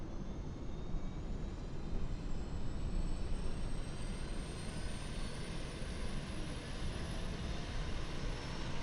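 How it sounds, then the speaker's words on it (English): The APU of an Aerosoft CRJ regional jet in Microsoft Flight Simulator runs up, a steady, loud turbine roar with a faint rising whine, heard from outside the aircraft and continuous for the whole stretch. "then we should see the APU spring to life"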